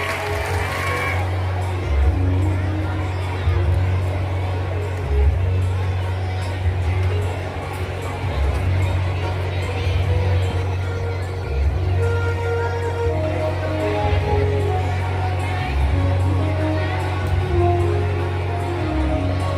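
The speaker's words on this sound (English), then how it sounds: "clap for them" A crowd claps and cheers continuously at a school investiture ceremony, with shouts and chatter mixed into a steady wall of applause.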